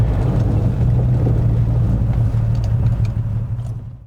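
An Aston Martin DB4 drives through bends with a loud, deep engine drone that holds steady and then gradually eases off toward the end, with no voices present.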